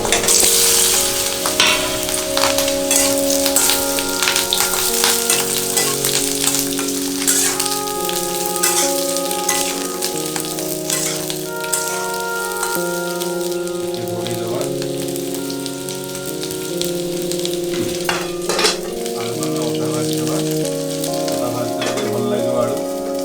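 Potatoes frying in hot mustard oil for a chicken curry, a loud, steady close-up sizzle and crackle with occasional stirring clatter throughout, without any speech.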